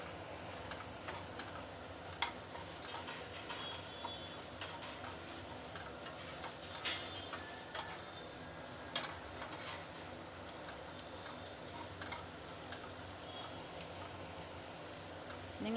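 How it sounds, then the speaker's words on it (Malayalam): Ivy gourd sautéing in a pan over moderate flame, with a soft continuous sizzle broken by occasional scattered ticks and clinks of a spoon stirring, quiet and close. "ഇടയ്ക്കിടയ്ക്ക് ഇതേപോലെ ഇളക്കി കൊടുക്കണം."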